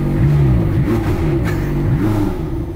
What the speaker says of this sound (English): I do just want to fire this up. There's not many times you get a chance to start up a McLaren